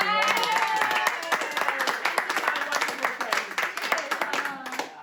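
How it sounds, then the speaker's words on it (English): A room of guests at an 80th birthday celebration gives a collective round of applause, dense continuous clapping from many hands that thins toward the end, with voices faintly under it. "let me just lead a collective round of applause for all of you"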